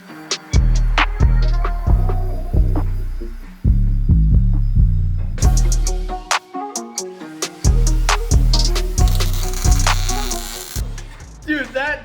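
A cheap Chinese-made welder welds metal on an abandoned ATV being revived to power a mini jeep. It gives a series of loud buzzing bursts in a stop-start rhythm, about a dozen welds separated by short pauses.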